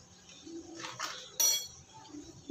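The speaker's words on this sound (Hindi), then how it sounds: "इसको हम अच्छे से मिक्स कर देंगे।" Garlic and chili flakes mixed in a bowl with a utensil, giving a few close, brief clinks and scrapes, one sharper clink around the middle, with no voices.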